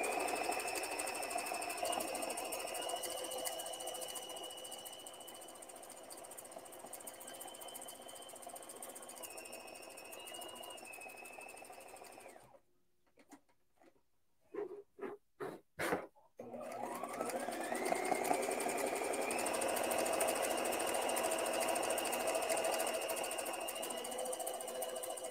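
A sewing machine stitches free motion embroidery on a shirt collar, with a steady mechanical whir that drops out for a few seconds midway, then a few short bursts before it runs steadily again.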